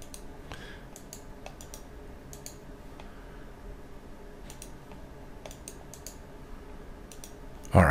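A computer mouse clicks while working in LMMS music software, giving sparse, sharp, faint clicks spaced across a quiet room hum, with a louder bump at the very end.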